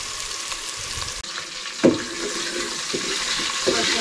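Onions frying in a pan for a Malvani chicken curry, with a steady close sizzle running throughout and a few brief stirring clunks.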